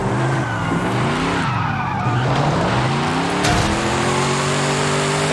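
A car drifts in Forza Horizon 5, its tires screeching in a loud sustained squeal as the engine revs rise and fall, close and alone without speech.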